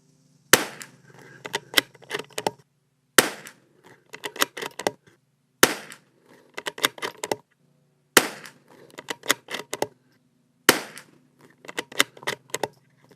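Christensen Arms Ranger 22 rifle firing .22LR rounds with a barrel tuner fitted, sharp close cracks in five separate groups, each a single shot followed by quick clicking of the action, with silence in between.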